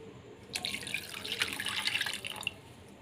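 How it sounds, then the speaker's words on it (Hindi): A glass of water pours into a bowl of tamarind set to soak, a splashing gush that rises, runs for about two seconds, then tapers off with a few drips. "तो मैं 2 गिलास पानी के इसमें डालूंगा।"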